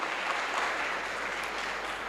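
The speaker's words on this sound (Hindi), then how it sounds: "सर के लिए जोरदार ताली होनी चाहिए" An audience claps at a stage show, a dense, even wash of applause that holds steady at moderate loudness from start to finish with no voices over it.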